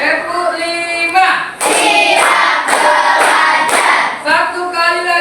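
Classroom of fifth-grade primary school pupils clapping together in a group rhythm, a dense burst of claps with a brief pause before more rounds, loud and close, with no talk over it.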